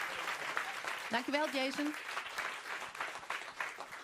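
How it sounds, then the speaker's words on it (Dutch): Audience at a live show applauds for Jason Carlson, scattered clapping running throughout beneath a host's brief spoken thanks. "maak even een denderend applaus voor Jason Carlson"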